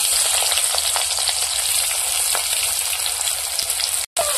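Onions sizzle loudly in hot oil in a wok, a dense, constant crackling hiss close up with no talk, cutting off abruptly near the end.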